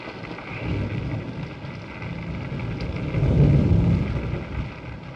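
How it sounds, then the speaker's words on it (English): Steady rain at night with low rolling thunder swelling midway, a dense continuous rumble and hiss heard without voices. "It's raining."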